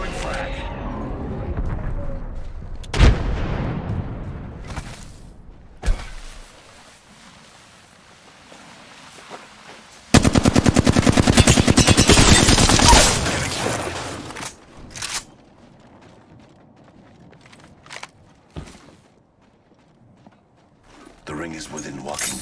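In the Apex Legends video game, a frag grenade blast and bursts of gunfire come through as sharp booms and a dense sustained volley in the middle, mixed with other game sounds and voices.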